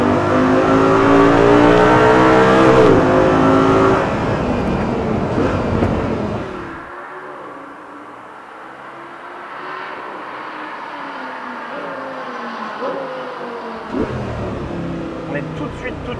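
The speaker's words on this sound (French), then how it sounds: "la voiture lance avec plus de vivacité, elle reprend très bas" An Audi R8 GT sports car revs hard and accelerates on a flat test track, a loud, close engine roar rising through the gears before easing off into a lower, fading drone, with a speaking voice over parts of it.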